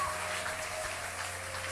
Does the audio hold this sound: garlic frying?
no